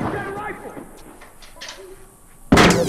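A single loud, close sniper rifle shot bursts near the end of a stretch of The Last of Us Remastered multiplayer gameplay, after quieter game sounds and brief speech.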